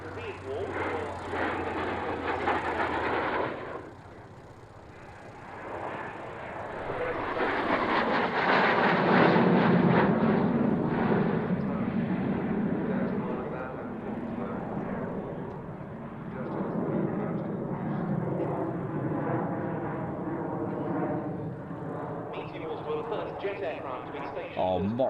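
A fixed-wing aircraft passes overhead, its engine drone swelling and fading across the sky while people talk over it.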